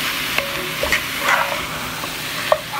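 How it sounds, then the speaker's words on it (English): Seasoned ground turkey browning in a pan for chili: a steady close sizzle and frying hiss with a few light scrapes and clinks of stirring, fairly loud and uninterrupted, with no voices. "Now we're gonna let this cook until the meat is brown."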